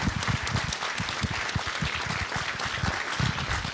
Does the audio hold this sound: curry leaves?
no